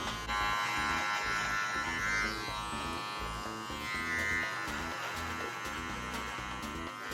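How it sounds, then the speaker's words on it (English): An electric hair trimmer buzzes close and loud while cutting hair during a skin fade haircut, a steady droning hum that keeps going with small shifts in pitch as the blade moves through the hair. "Now zero and below, trimmer and shaver."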